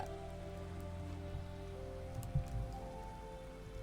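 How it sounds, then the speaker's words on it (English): Rain falling in the video game Minecraft, a soft steady patter under faint tonal game music, quiet and continuous with one brief louder tap, no talk. "It feels like it is raining every single day."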